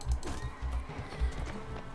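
A horse in the medieval battle game Mount & Blade Warband whinnies as rhythmic hoofbeats thud along, close and moderately loud, with faint background battle noise.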